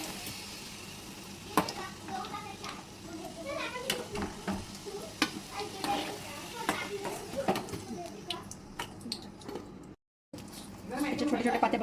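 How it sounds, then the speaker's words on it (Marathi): Dough lamps (diwe) of wheat and rice flour fry in hot oil, a steady sizzle with scattered crackling pops and stirring clinks in a home kitchen, with a brief dropout near the end. "दिवे तळून घेऊ."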